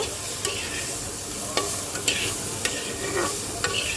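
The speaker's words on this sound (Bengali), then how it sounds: "এইবার এটাকে একটু মিক্স করে দেবো মশলাটাকে আমি দুই এক মিনিট সুন্দর করে এভাবে ভাজা ভাজা করব" Spices fry in oil with drumsticks and potatoes, a steady sizzle broken by sharp spoon-on-pan scrapes and taps at irregular intervals, close and without speech.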